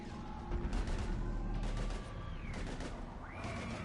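Gunfire from a firefight in Mass Effect 3, a dense stream of overlapping shots under a steady battle din, with scattered game effects and faint voices in the mix.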